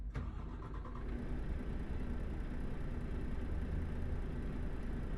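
A truck engine in the Euro Truck Simulator 2 driving game hums steadily and loudly throughout, a continuous mid-pitched drone with a brief start-up flutter at the beginning and no talking.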